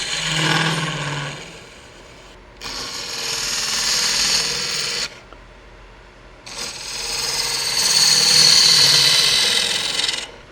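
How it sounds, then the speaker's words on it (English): A bowl gouge cuts into wood spinning on a lathe in three separate passes, each a loud, close, hissing scrape, with a quieter hum from the lathe between them. "So we can cut a good little bit there with the bowl gouge"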